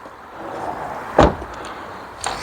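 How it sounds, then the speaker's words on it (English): The door of a 90s Rover 820 Vitesse saloon shuts once with a dull, fairly soft thud, followed by a faint click, heard close with no talk. "Door shut sounds isn't a particular talent of 90s Rovers"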